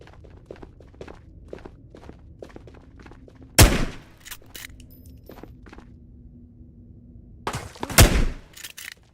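Two loud gunshot bursts from an AK Alpha rifle in the VR shooter Ghosts of Tabor, cracking out near and sharp between steady footsteps shuffling along, with a quieter spell between the shots.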